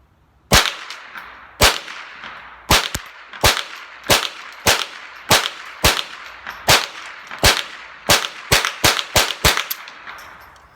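Ruger 10/22 M1 Carbine rifle firing CCI Mini Mag .22 rounds at a range, about fifteen sharp, loud cracks, spaced out at first and then coming in faster succession, each shot with a brief ringing decay.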